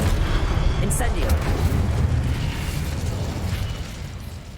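An Incendio fire spell bursts in Hogwarts Legacy with a loud explosive whoosh and rumbling boom that slowly tails off, while a voice sounds over it.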